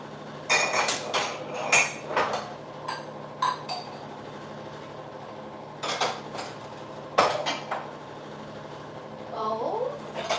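Cups and dishes clink and knock as they are picked up and stacked in a home kitchen. The clatter comes in irregular bursts of ceramic and glass contact, close and fairly loud, with a voice speaking quietly between them.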